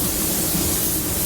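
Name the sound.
Porphis PRD-717 spray gun spraying GM fenders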